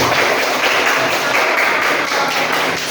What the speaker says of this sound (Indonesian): Beri aplaus dulu